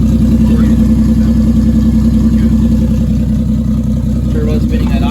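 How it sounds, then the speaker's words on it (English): Turbocharged 1JZ engine fitted in a Mercedes 380SL, idling with a steady low rumble and a faint whine close by, while a voice talks over it. "Turbo spinning at idle at like freaking 400, 500 RPM."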